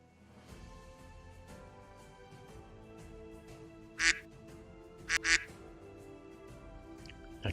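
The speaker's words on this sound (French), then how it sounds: "Un canard." A duck quacks in short bursts, one single call followed by a quick double, fairly clear over a steady low background hum, with a faint extra note at the very end.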